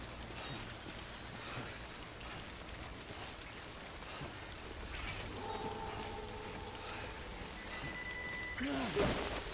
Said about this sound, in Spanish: Pues es que está lloviendo, tío.